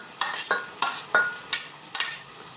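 Capsicum being sautéed in a pan for pav bhaji, cauliflower about to go in: five bursts of stirring and scraping against the pan over a soft sizzle, close and moderately loud, with no talk.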